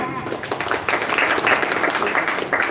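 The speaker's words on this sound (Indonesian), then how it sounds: "tepuk tangan" An audience claps steadily throughout at the opening ceremony of a Japanese-language job training program, dense and sustained, with voices mixed in among the applause.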